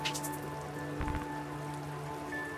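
Steady rain falling in the video game Spider: Rite of the Shrouded Moon, a constant hiss with soft patter over low sustained game music tones.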